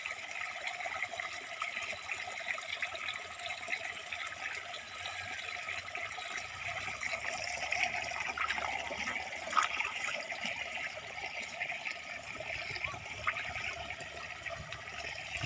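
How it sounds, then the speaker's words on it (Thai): Water runs and splashes steadily as a face is washed outdoors during mud-house play, a moderate, continuous trickling wash with small splashy peaks and no speech over it. "ล้างหน้าออก เร็ว"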